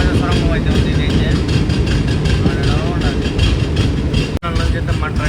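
Garib Rath superfast express running through the Nallamala forest after the Chellamula tunnel, a steady loud rumble of wheels and coaches with constant wind noise, one brief dropout near the end, recorded from inside the train.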